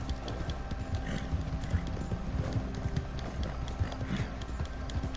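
Hooves of a horse galloping in the Red Dead Redemption video game, a continuous rhythmic clip-clop over a low steady rumble, close and even, with game ambience underneath.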